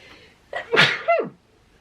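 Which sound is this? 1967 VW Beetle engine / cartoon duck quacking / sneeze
sneeze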